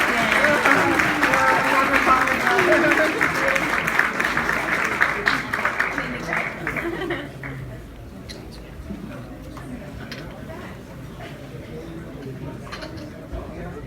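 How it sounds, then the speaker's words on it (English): Wedding reception guests applaud after a toast, a dense crowd round of clapping that is loud at first, then thins and fades into scattered claps and room murmur. "let's give Kimberly another round of applause for the great speech"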